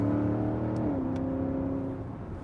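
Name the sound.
Porsche Cayenne GTS SUV accelerating through a corner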